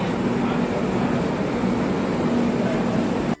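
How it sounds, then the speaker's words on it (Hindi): A train sits or moves at Rampur railway station in India, a steady loud rumble with a faint tonal hum running through it, cut off abruptly at the end. "यहाँ पे हमारी ट्रेन है"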